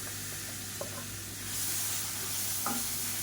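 Finely chopped onions fry in a pan for a thick relish, a constant near hiss of sizzling oil with a couple of light utensil taps, no voices.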